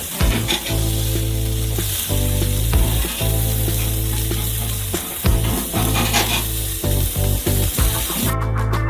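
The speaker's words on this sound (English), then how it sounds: "fry them a little bit more and take them out." Cutlets fry in a pan with a loud, continuous close sizzle broken by repeated stirring and scraping, with no talking.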